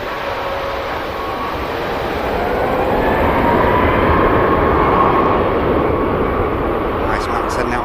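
A Jet2 airliner landing at Manchester Airport, a broad roaring rush of engine and airflow that swells in the middle and stays loud throughout, heard from outdoors at a distance.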